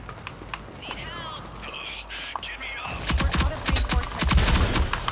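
Rapid automatic gunfire sprays in a Rogue Company match. Dense cracking shots cluster in the second half over continuous game noise, with a player talking throughout.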